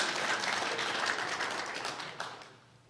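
Crowd clapping at a Tennessee political rally, a steady wash of applause that is fairly faint and distant and fades out toward the end, with no distinct voices.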